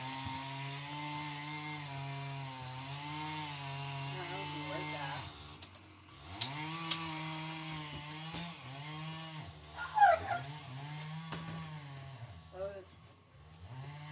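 A chainsaw drones outside, its engine rising and falling as it revs, with a voice speaking over the machine noise.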